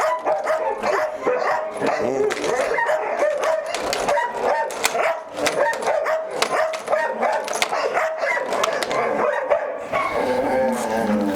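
Belgian Malinois dogs on a farm bark and yip in rapid, loud, overlapping bursts close by, with whimpering mixed in, continuous throughout.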